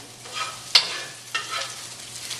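Small chunks for a quinoa stuffing fry in a pan with a steady close sizzle, punctuated by two sharp utensil knocks against the pan.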